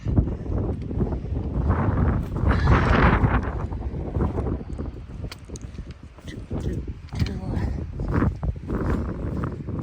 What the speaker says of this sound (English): Kind of breezy.